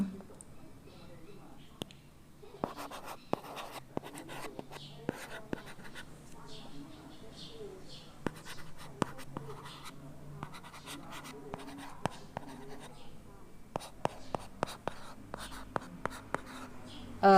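A stylus writes on an iPad Air 4 fitted with a paper-like screen film. It makes close, scratchy strokes and sharp taps in an irregular rhythm, with a faint voice now and then.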